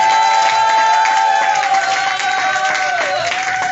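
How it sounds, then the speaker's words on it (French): Church congregation acclaims with loud sustained applause and cheering, a dense wash of clapping under a prominent held shout or whistle-like cry that wavers near the end. "Ce qu'on dit acclame plus fort pour la gloire du Seigneur"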